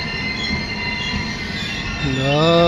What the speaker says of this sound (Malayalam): വണ്ടി എത്തിക്കഴിഞ്ഞു